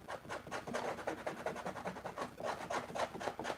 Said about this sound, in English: you see how much I've scraped this already